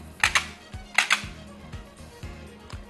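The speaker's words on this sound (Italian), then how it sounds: "Adesso devi prendere i dadi, mescolarli, farli cadere sul tavolo" Dice are shaken and dropped onto a table, giving sharp clustered clicks and clatters in two bursts followed by lighter rattling taps, close and dry.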